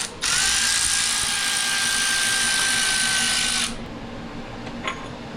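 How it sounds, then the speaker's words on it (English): A power drill boring a hole in a workshop while modifying a big block 727 Torqueflite transmission, one loud steady high whine lasting about three and a half seconds, then stopping, close and alone. "are you going to drill a hole now"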